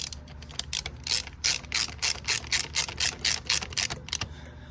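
A hand ratchet on a spark plug in the engine of an Infiniti G35 clicks in rapid, rhythmic bursts, loud and close, with a short pause and a few final clicks. No one speaks.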